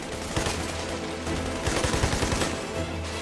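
Gunfire in the video game Army of Two: The Devil's Cartel, a steady stream of rapid shots over a dense rumbling battle background, moderately loud with no talking.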